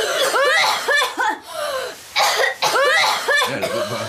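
Children coughing on purpose, several deliberate staged coughs in quick bursts mixed with giggles and snickers, close and fairly loud.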